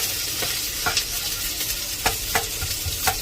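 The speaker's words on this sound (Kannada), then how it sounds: "ಚೆನ್ನಾಗಿ ಫ್ರೈ ಆಗಬೇಕು." Onion and garlic frying for homemade kushka rice: a loud, steady sizzle is broken by several sharp stirring scrapes against the pan.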